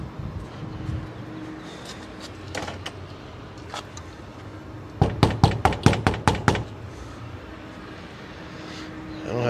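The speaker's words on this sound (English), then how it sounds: "Let's knock on this one." Knocking on the front door of a theater built in 1912 in New York: a few scattered knocks, then a quick run of about seven firm raps, close and distinct over faint room hum.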